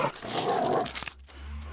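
A dog growls and snarls in the zombie-running video game Into the Dead, a rough close burst of aggressive noise that cuts off suddenly, followed by quieter low rumbling.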